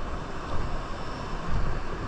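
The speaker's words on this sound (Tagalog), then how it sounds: "Laki pa ng mga alon." Strong wind buffets the microphone on a shore at high tide, with a steady broadband roar of big waves rising and falling throughout, no voices present.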